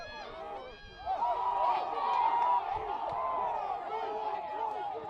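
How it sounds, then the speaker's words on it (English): Crowd at a college women's soccer match between West Texas A&M and Angelo State, a sustained roar of cheering and shouting swelling and holding at moderate distance. "Boy, you can hear the crowd."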